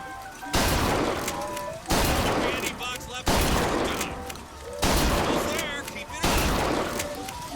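Gunfire in a weapon tutorial in the video game Bioshock Infinite: five loud, sharp volleys about every 1.4 seconds, each with a burst of rapid shots and ringing metallic tails.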